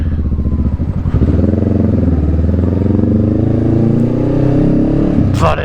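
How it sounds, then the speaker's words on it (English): Honda Rebel 500 with a Vance & Hines exhaust revving hard, a loud continuous engine roar with rising and falling pitch, close to the listener, ending in a brief sharp pop. "sometimes it's quite aggressive popping"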